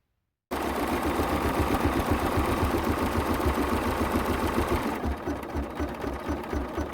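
An embroidery machine stitching out a design on fused interfacing scraps, a rapid steady mechanical whirring rhythm starting abruptly after a moment of silence, close and continuous.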